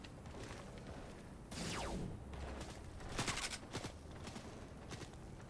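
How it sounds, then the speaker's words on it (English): Gunfire in Fortnite: scattered bursts of shots and sharp cracks over a steady game background, some louder and closer, others quicker rattles, all at a fairly low overall level with no talking. "I'm just getting shot!"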